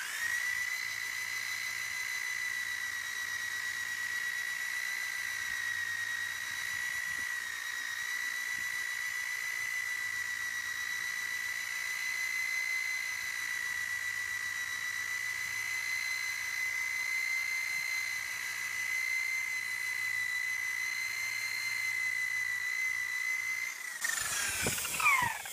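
Electric buffer polishing compound into white vehicle paint to remove rust-colored spots, a steady high-pitched whine that holds nearly constant for about 24 seconds, then drops sharply as the machine winds down.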